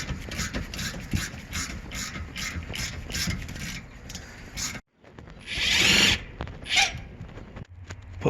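Power tool spinning out a brake caliper guide bolt on a BMW E39/E46 rear brake job, a series of rapid, close, rattling bursts followed by a pause and a louder whirring run at the end.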